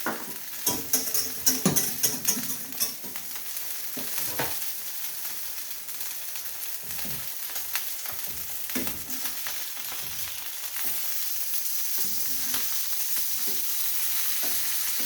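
Tilapia fillets sizzle and spit steadily in a hot pan, with a few louder stirring or scraping bursts early on before settling into an even, continuous frying hiss.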